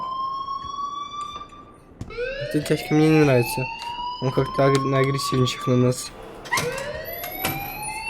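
In Life Is Strange, an electronic alarm wails in long rising sweeping tones that repeat, loud and close, while someone speaks over part of it.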